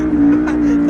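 Audi R8 V8 supercar launching hard, a loud close engine roar holding a strong steady tone through a one-second burst of acceleration.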